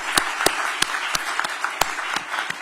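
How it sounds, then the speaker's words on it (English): A handful of scattered, separate claps ring out at an Atlanta city event where the mayor awards film industry grants. The claps are fairly close and irregular, with no sustained ovation. "Everybody give them a round of applause."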